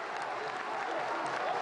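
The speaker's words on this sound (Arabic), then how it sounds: "خرج عناصره تحت تصفيقات" A football crowd applauds as the players leave the pitch after a 3–1 win, producing a continuous dense wash of clapping at a steady level throughout, with a faint murmur of voices mixed in.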